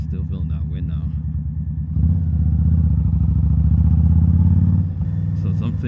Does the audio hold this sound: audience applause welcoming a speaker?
no